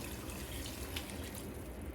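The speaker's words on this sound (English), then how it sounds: "then you put 15 ounces of water in here." Water poured from a tap or jug into a pot of canned whole tomatoes, a steady close splashing and trickling that runs evenly for a couple of seconds with no talk over it.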